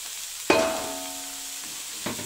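Snake gourd dropped into a pan of fried coconut bursts into a sudden loud sizzle that slowly fades into steady frying, with a second brief stir-and-sizzle near the end.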